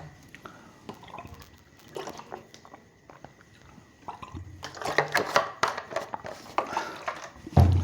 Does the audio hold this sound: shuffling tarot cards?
no